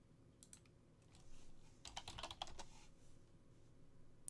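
Keys tapped in a short burst on a computer keyboard while entering a command for a Raspberry Pi Minecraft server, a quick run of close, crisp clicks clustered in the middle of the clip with quiet room tone around it.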